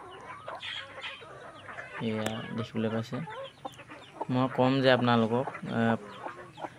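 A hen clucks in repeated short bursts close by, mixed with a person talking over it.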